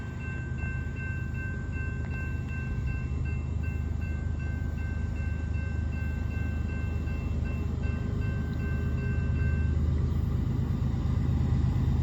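A heavy CSX northbound freight train rumbles past steadily and loudly, deep rolling wheel noise sustained throughout, with a faint high tonal whine.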